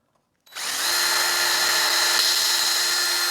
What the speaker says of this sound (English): we'll just make some little holes, not all the way through. Just enough for our screws.